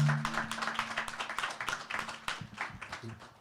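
A small audience clapping along at a talk, with quick, uneven hand claps patterning over a few seconds at low volume, fairly close, with a faint hum underneath.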